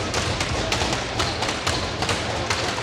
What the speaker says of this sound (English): banging their sticks